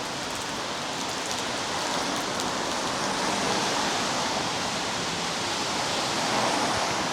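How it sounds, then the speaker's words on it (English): Heavy rain falls hard and steady, a dense unbroken hiss of downpour that fills the whole stretch at constant loudness with no voices. "that rain's fairly coming down now"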